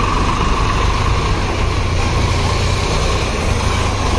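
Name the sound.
Swaraj tractor engine entering the sugar mill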